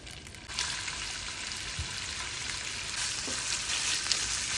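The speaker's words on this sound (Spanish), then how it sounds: "Le voy a agregar aceite. Le agregamos las salchichas." Sausages sizzle in hot oil on a stove in a steady broadband crackle, with a quieter start before the hiss swells at about half a second and holds loud and even, a few small pops scattered through.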